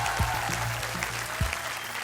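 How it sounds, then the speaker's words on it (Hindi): Brief studio audience applause on a Hindi game show, a short burst of clapping with faint voices underneath. "तालियां"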